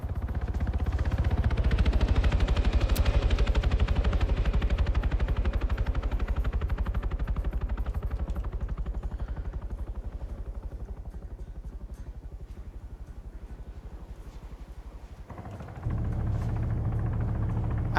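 In the video game Arma 3, a helicopter diving in a PvP round gives a loud, continuous rotor and engine drone that slowly fades and then jumps back up sharply near the end, with no talking.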